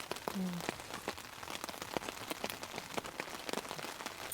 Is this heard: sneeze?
no